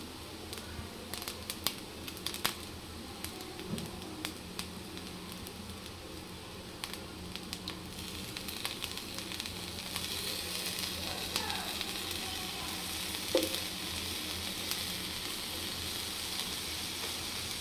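A pan stir-fry with black pepper and a splash of soy sauce sizzles softly and steadily as it is tossed and turned, with scattered light clicks and scrapes from the utensil. The sound is close but fairly quiet, with no talking.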